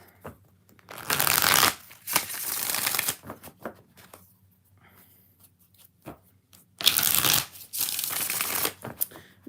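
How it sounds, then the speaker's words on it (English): Two bursts of tarot card shuffling, each a rapid riffling flutter lasting a second or more, close and crisp, separated by quieter handling sounds. "Let's shuffle it 3 more times."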